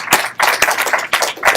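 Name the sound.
hackathon audience clapping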